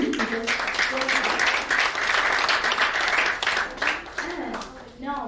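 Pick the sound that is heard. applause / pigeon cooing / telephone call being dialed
applause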